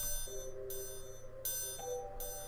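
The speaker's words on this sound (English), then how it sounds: "Next, I have triangles." Bright, ringing triangle hits repeat in a steady pattern over a quiet, sustained electronic backing within a beat, with no voices.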